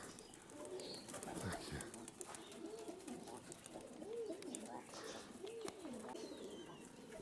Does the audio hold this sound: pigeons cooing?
yes